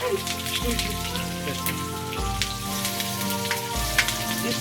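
Onion frying in a pot on the stove, a steady bright sizzle with crackling spatter running throughout, with a low hum underneath.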